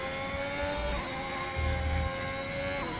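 A Ferrari Formula 1 car in F1 2021 at the Spain race screams past at the finish line, its high whining engine tone steady under other engine drone, with brief low thumps.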